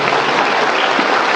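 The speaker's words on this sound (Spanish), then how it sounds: "Bienvenido, un aplauso" A church congregation applauds to welcome a visitor, steady dense clapping from many hands filling the room at a constant level.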